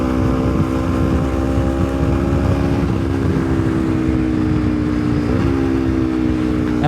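A Honda CBR250RR motorcycle fitted with a quickshifter, its exhaust droning steadily while riding, a loud constant engine tone with slight pitch shifts, heavy wind rush underneath, no talking.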